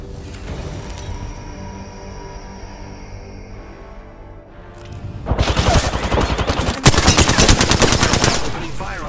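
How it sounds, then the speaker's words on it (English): Rapid automatic gunfire in the shooter game Apex Legends, loud dense bursts of shots after a quieter stretch of background game ambience, with one especially sharp crack partway through the firing. "Opening fire on the enemy."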